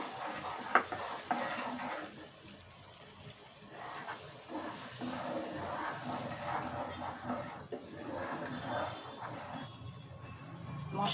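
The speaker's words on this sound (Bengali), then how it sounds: "মশলাটা একটু কষাবো।" A spice paste with salt is stir-fried in a pan for a pabda fish curry. There is a faint, steady sizzle, with intermittent scraping of a spoon against the pan and occasional utensil clinks, all fairly quiet.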